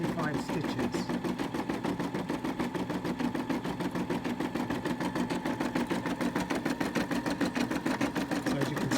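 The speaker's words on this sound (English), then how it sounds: "So the machine's just finished stitching the white" A Brother M280D Disney embroidery machine stitches white thread in a fast, steady mechanical chatter that runs unbroken and fairly loud from start to finish.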